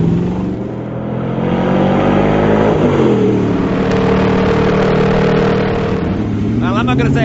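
The Deronda sports car with a 400-horsepower LS2 V8 accelerates hard, its engine note loud and close, rising and falling steadily through the revs with a continuous roar and a gear change midway.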